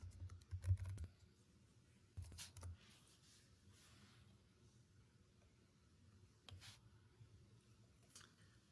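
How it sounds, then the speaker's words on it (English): Faint, sparse keystrokes on a computer keyboard in a quiet room: a few quick clusters of taps near the start, then isolated clicks spread across the rest. "I'm going to type it in."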